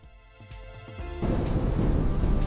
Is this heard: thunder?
yes